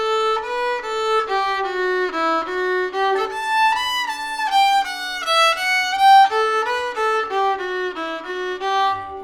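Fiddle playing the tune Shooting Creek, alternating between octaves as looped parts trade phrases, with clear bowed sustained notes in a lively steady melody and no talking.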